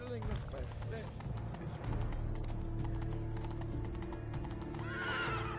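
Horse hooves clip-clop at a steady trotting rhythm while riding in The Witcher 3, with a horse whinnying and character voices speaking over the hoofbeats throughout.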